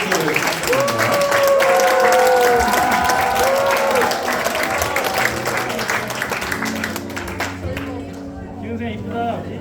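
A church congregation at a combined middle and high school Thanksgiving Sunday service breaks into loud, sustained applause with cheering voices, gradually thinning toward the end as a few claps and murmurs linger.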